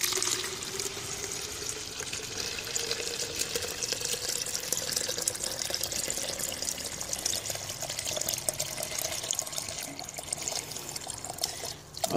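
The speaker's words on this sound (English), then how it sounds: "it licks up this water just as quick as I can pour it" Water poured steadily into the fill tube of a sub-irrigated planter: a continuous close trickling and gurgling stream lasting the whole time, with no talk over it.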